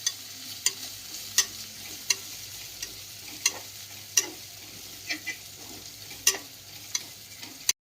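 Ginger garlic paste frying in a pan for biryani, with a steady sizzle under repeated sharp scraping strokes of a spoon stirring at an even pace, close and clear with no talk.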